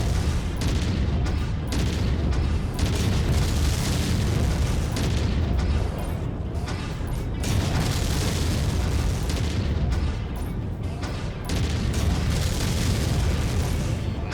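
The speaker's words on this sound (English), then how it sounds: "I'm just going to bombard it from long range with my AC-2 and my missiles." AC-2 autocannon and missile barrage from a mech in MechWarrior 5: Rise of Rasalhague, a dense, loud stream of booms and bursts rolling on for about fourteen seconds with only brief lulls.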